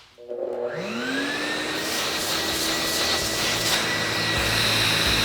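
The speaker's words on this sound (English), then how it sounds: "when you're using the vacuum as you're going through the boat" A vacuum cleaner starts up with a rising whine, then drones loudly and steadily nearby, cleaning inside a wooden runabout boat between varnish coats.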